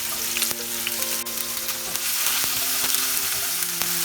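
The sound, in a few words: frying onions and green chillies with cumin in oil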